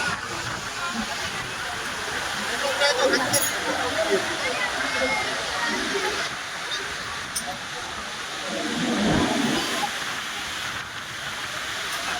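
The Bharachukki waterfall at Shivanasamudra, in full flow, makes a steady broad roar of rushing water. Voices are heard over it now and then.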